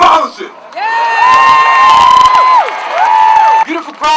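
A large, mostly young crowd at a peaceful street protest in Greenwich Village cheers and whoops loudly, with sustained shouts rising and falling over about three seconds after a brief quieter start.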